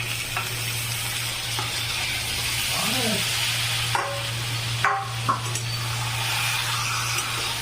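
Chicken sizzles and fries in a pan with browned onions, village-style curry cooking, giving a steady loud crackling hiss with occasional stirring scrapes and a low constant hum underneath.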